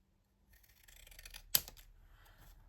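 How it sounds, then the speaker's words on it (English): Scissors snipping through card pieces for a double block pop-up card, a soft rustle of paper building up then one crisp, close cut. "Now I'm going to cut off these 2 pieces here."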